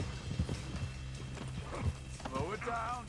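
Horse hooves clip-clop in Red Dead Redemption 2, a few soft irregular thuds close by mixed with horse snorts and a brief whinny, while a voice talks over them.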